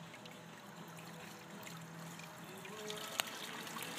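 Water rinsing gold mining equipment in the field, a steady low trickle and pour running continuously with faint splashes and one brief sharp knock near the end.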